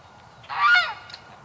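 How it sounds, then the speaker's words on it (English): A single loud, close goose honk, a rising and falling nasal call lasting about half a second, over quiet background. "We just had a total goose freak out here."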